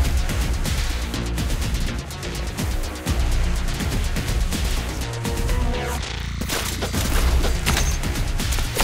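Weapons fire in the tower-defense game Arknights, a loud busy stream of rapid shots and impacts layered with game music and effects, barely pausing throughout.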